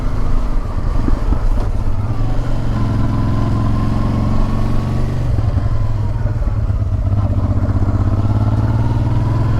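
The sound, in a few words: Honda Transalp motorcycle riding on road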